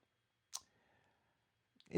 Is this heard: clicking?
yes